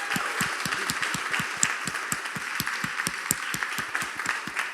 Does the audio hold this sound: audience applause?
yes